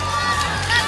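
Studio audience at the live Greek Idol TV show greeting a singer with a dense, steady wash of crowd noise and cheering, loud and continuous throughout.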